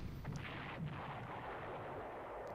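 Artillery fire in the WWII strategy game Panzer Corps, a dull rumbling barrage of low booms with a few sharper bursts, rolling continuously at moderate volume.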